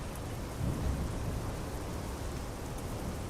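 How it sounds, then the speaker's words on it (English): Heavy rain falling at the Port of Piraeus in Greece in Euro Truck Simulator 2, a constant hiss of drops with a brief swell of low rumbling early on, then steady downpour alone. "Wish it weren't raining."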